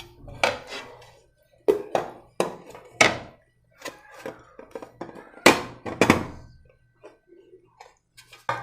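Baked red velvet cake layers are knocked out of their pans, giving a series of sharp, close thunks and metallic taps in irregular bursts separated by quiet pauses.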